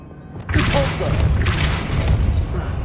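A Depulso push spell in Hogwarts Legacy strikes with a sudden loud thump, followed by a dense, crashing rumble of impact and scattering debris.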